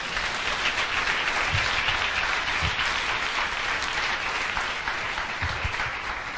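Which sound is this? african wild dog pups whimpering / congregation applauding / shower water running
congregation applauding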